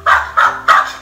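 A small dog barking nearby: four quick, high-pitched yaps in a steady rhythm, loud and clear with nothing else heard.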